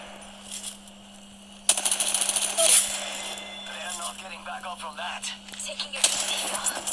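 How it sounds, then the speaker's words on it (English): Gunfire in Apex Legends Mobile, bursts of rapid shots and sharp cracks starting suddenly and repeating under and between players talking. "Shots coming"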